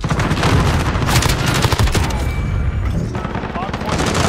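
Dense, rapid gunfire from a gun in Call of Duty: Modern Warfare (2019) rattles through continuous loud bursts, close and heavy, with booming low-end impacts under the shots.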